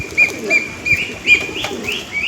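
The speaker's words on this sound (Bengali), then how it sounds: "একটা কালাঙ্কা পায়রা দেখাচ্ছি" A Kalanka pigeon at a tournament pigeon sale calls amid a busy loft, with repeated short bright chirps and soft coos in a loose rhythm, close and moderately loud, with faint wing flutter in the background.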